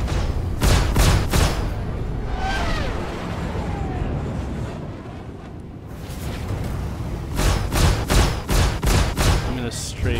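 Flares launched from a Warthog spacecraft in Star Citizen, firing in quick loud bursts at the start and again near the end, with a rumbling engine wash and whooshing sweeps filling the middle.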